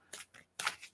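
Oracle cards are shuffled by hand in two or three quick, crisp riffling bursts, close and fairly quiet, with brief pauses between them.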